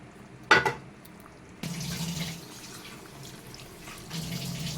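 Water poured into a pan of cashew chicken curry with ground cashew paste, a brief splash and then a steady running gush that fades and returns, no talking.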